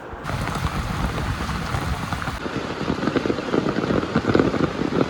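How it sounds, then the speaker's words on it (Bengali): Heavy evening rain pours steadily onto a muddy courtyard, a dense continuous roar of splashing drops with some wind noise, loud and unbroken with no speech. "আজ দেখুন সন্ধ্যা থেকে কীরকম হারে বৃষ্টি নেমেছে, প্রচণ্ড।"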